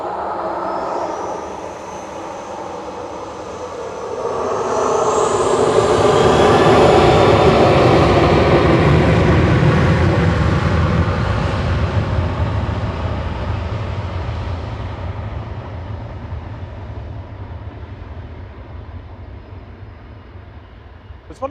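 Airbus A320 jet engines spool straight up to full takeoff power at Manchester Airport, a broad roar that builds and peaks, then slowly fades as the aircraft moves away, with no talk over it.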